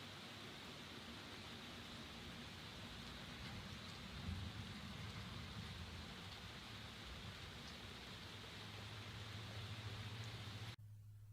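Steady rain falls with thunder rumbling low beneath it, a dense continuous hiss with a soft swell of rolling thunder midway before the sound cuts off near the end.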